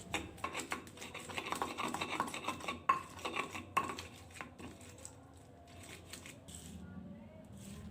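Shallots and garlic are ground in a stone mortar with rhythmic scraping and pounding strokes, close and fairly quiet. The strokes are busy at first, then ease off into softer, sparser sounds.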